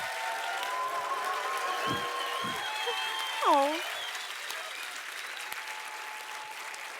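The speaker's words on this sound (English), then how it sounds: "You can applaud now if you want to." An audience applauds at an opening ceremony with a steady, even wash of clapping that carries through the whole stretch, while a brief voice and a few scattered tones come through on top.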